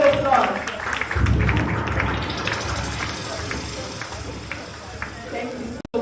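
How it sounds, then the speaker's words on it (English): At an Abbey Mortgage Bank unveiling event, an audience breaks into applause that swells quickly and then tapers off over several seconds while a voice speaks over it. "A round of applause once again, everybody."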